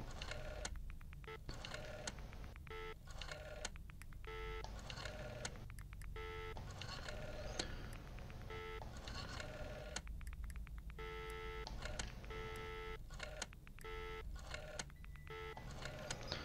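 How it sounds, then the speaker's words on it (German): A telephone number is dialed in the video game F13 Virtual Cabin, with bursts of quick electronic keypad tones in repeated clusters separated by pauses, faint over a steady low background hum. "auch dort rufen wir jetzt noch einmal an."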